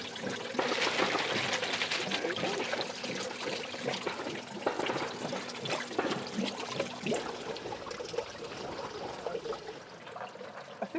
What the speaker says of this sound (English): So we'll pour our soil in.